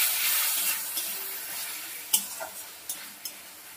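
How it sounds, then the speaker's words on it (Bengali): Ginger paste and green chili paste being sautéed with masala in a pan for katla kalia, a steady close sizzle with a few sharp stirring knocks toward the end. "আবার একটু কষিয়ে নেব।"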